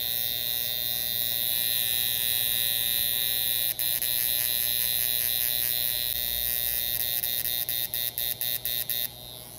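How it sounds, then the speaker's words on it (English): A portable high-frequency skin device crackles and buzzes continuously as it sparks against the face, a steady electric hum with a few brief interruptions near the end, close and fairly loud. "I'm going to do what's called sparking, which is where you zap it"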